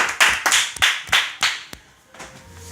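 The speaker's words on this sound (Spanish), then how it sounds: "recibámoslo con un aplauso de Carolina." Live audience applause for a guest speaker at an event, a burst of clapping that swells in several waves and fades out after about two seconds, with no talk over it.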